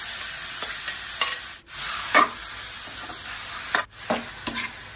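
Pork sizzles in a pan with onion, garlic and ginger, a continuous frying hiss broken by scraping stirs of a utensil and a couple of brief dips in the sizzle, with no talking.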